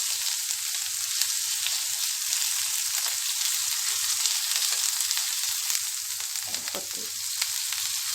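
Garlic fries steadily in hot oil, a dense continuous sizzle with occasional crackles and a brief stir near the end, while a voice speaks a single short word.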